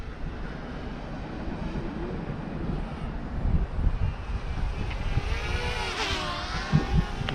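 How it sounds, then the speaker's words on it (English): A DJI Mavic Mini drone flies around outdoors, its rotors giving a steady, fairly loud whirring buzz with small rises and falls in intensity and no talking. "I'm just flying the drone around."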